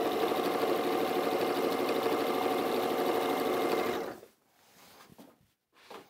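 Sewing machine run by someone standing up: a continuous close mechanical whir for about four seconds that stops abruptly, leaving quiet handling noises.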